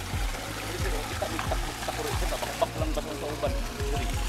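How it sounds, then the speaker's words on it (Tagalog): Water pours and trickles steadily from the top of a waterfall over solid rock, a close, continuous rushing stream with a faint bird now and then and low background noise. "Nandito pa rin kami sa itaas ng falls."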